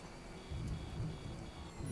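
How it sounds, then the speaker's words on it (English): In the video game Death Stranding, rain hisses steadily while a low thunder rumble swells midway and lingers, heard alone without voices. "And of course it's raining."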